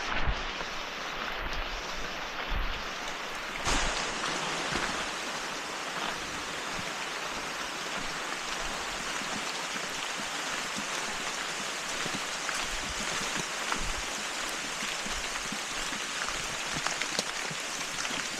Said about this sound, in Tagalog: Naulan na guys